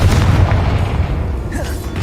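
A Confringo fire spell explodes in Hogwarts Legacy, a loud sustained boom with a deep rumble that fades slowly over about two seconds.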